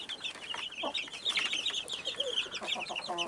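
Chickens and chicks cluck and peep on a farm, a steady stream of small overlapping calls close by, with no talk.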